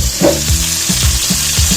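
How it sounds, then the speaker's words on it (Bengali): Fish frying in a pan, loud close sizzling with repeated scraping stirs of a spatula against the metal at a steady rhythm. "আর এদিকে মাছ ভাজা হচ্ছে"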